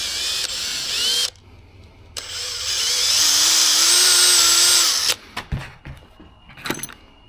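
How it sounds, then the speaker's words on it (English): A power drill with a step drill bit whines at high pitch in two loud bursts, biting into material, followed by a few clinks and rattles of handling. "I think this step drill isn't the best for this."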